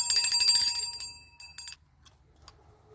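A small bell rings brightly with a bicycle-bell-like shimmer that fades over about a second, followed by a few light taps and clinks.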